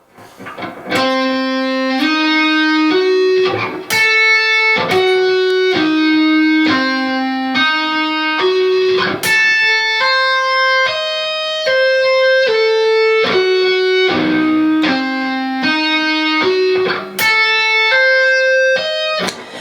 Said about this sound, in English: What we're doing is diminished string skipping.